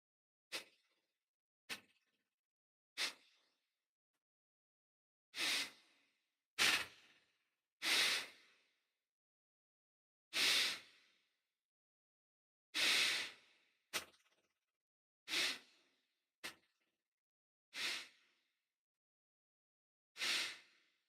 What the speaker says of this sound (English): let's start with 30 rounds of bow breathing together